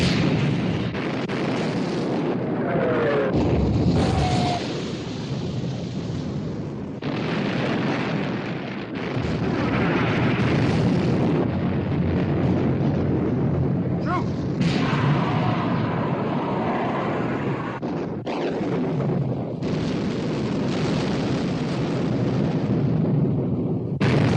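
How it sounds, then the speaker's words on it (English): Battleships Prince of Wales and Bismarck exchange naval gunfire in a 1960 war film soundtrack, heavy booms and rumbling blasts layered over dense battle noise and music throughout. "Prince of Wales and Bismarck exchanging fire."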